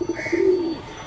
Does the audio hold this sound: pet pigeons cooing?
yes